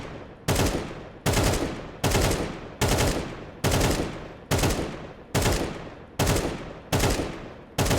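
Video game shooter gunfire on FACEIT, ten short evenly spaced loud bursts of a few shots each, separated by brief pauses, no voices.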